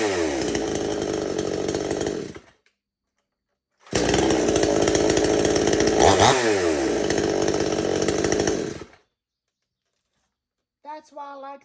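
A modern top handle chainsaw runs loud and close in two long bursts of about two and four seconds, with a revving pitch sweep in the second, separated by silence, then a brief chirpy sound at the end.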